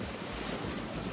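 Wind roars across a Kapalua Bay golf course as a loud, steady rush of buffeting against the microphone, brief and without voices.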